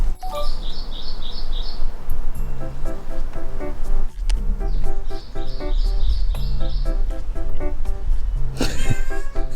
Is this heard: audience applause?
no